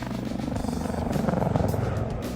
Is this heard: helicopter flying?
yes